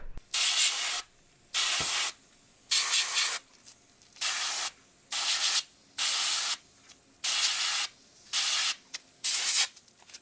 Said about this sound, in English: So I'm going to start off by sandblasting.